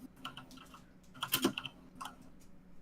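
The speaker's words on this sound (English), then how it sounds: "Me and my loud keyboard." Quick bursts of keystrokes on a loud computer keyboard, clicking in short clusters with a denser flurry near the middle, close and fairly quiet, with no talking.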